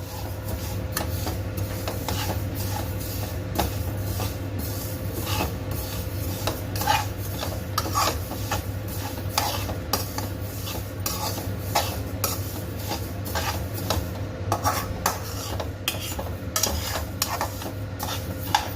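Niger seeds dry-roast in a pan with continuous rasping, scraping stirs, a quick, even rhythm of dry rustling strokes against the metal, close and moderately loud with no talking.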